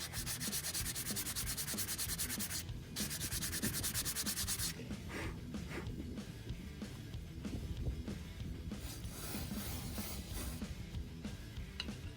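Continuous rough scraping of sandpaper against brake pads from a Jeep Grand Cherokee ZJ, steady and close, with a brief pause partway through and no voices.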